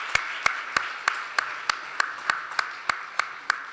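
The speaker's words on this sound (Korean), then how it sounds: "우리 박수로 하나님께 영광을 돌리겠습니다." Church congregation at a New Year's Eve service in Samcheok clapping in unison, about a dozen sharp, evenly spaced claps at a steady rhythm, clear and moderately close.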